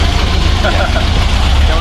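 A car engine idles with a strong, steady low rumble close by, while people talk over it throughout.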